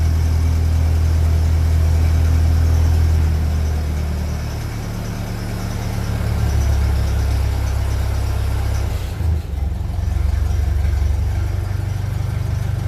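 A 1957 Ferguson 35 tractor with a TVO engine idles at about 800 revs, a steady low chugging throb that runs close and loud throughout, dipping briefly near the end before settling back.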